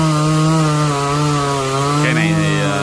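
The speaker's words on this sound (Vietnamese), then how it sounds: "cho nên là chỉ cưa ra làm củi thôi" A chainsaw runs at a steady, loud drone, cutting a tall tree felled near a house into short firewood lengths. The engine pitch dips briefly as the chain bites into the wood.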